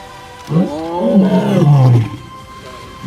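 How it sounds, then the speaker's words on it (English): A lion's deep roar, loud and close, rises and swells through a series of grunting bursts lasting about a second and a half before fading, heard alone with no voices. "A lion's roar can be heard from as far as 5 miles away."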